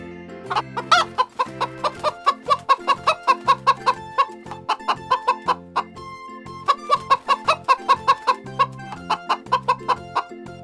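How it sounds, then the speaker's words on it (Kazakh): A chicken clucks over and over in quick rhythmic bursts, close and loud, with a short pause midway before the clucking resumes. "Тауық. Тауықтың балапаны шөже."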